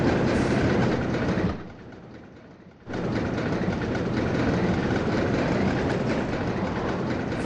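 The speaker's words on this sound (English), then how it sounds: "The way that the Sapphire roller coaster goes up and up and up, this kind of sounds like a over dramatic drum roll" A roller coaster in the OpenRCT2 game clatters steadily up its lift hill, a dense continuous rattle that briefly drops quieter before returning at full loudness, with no voices.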